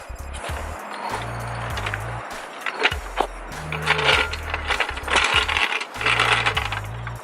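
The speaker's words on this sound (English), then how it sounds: "That's where you put the jack on" A car jack is ratcheted up under a car during a brake and rotor job. It gives a series of close, uneven mechanical clicks and clunks in short bursts, with no talking.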